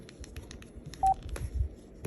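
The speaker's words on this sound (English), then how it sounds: "it has the same exact beeps as the older Kyocera DuraXV" Kyocera DuraXV rugged flip phone keypad producing short electronic key beeps: a faint one early, then a clear brief tone near the middle, with soft button clicks and light handling noise around it, close and quiet.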